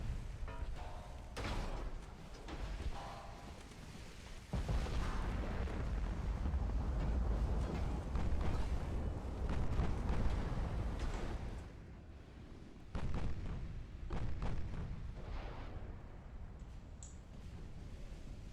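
Naval artillery in the Ultimate Admiral: Dreadnoughts video game booms as dreadnought guns fire, with repeated deep thuds and rumbling blasts layered over a sustained roar of sea and wind.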